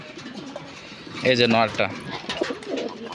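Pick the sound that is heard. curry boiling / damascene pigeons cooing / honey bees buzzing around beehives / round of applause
damascene pigeons cooing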